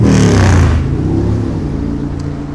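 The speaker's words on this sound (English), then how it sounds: "Fucking motorcycles." Loud motor vehicle engine roaring close by, revving hard at the start and then easing into a steady lower drone, with no talk.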